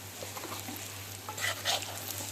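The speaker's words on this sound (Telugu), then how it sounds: "ఇప్పుడు దీంట్లో ఈ పుట్నాల పప్పు వేసేసుకున్నామండి" Bitter gourd stir-fried in oil with ground roasted gram powder, a soft continuous sizzle under scraping spatula strokes, with a couple of louder stirring scuffs near the end over a low steady hum.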